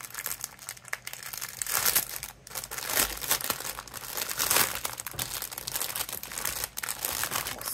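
Plastic packaging around skeins of cross-stitch embroidery thread crinkles and rustles close up, with steady crackling handling noise throughout and no talking.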